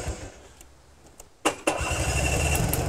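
A two-stroke motorbike with electric start cranks and fires, a brief starter burst followed by the engine catching and settling into a steady, close, rattly idle.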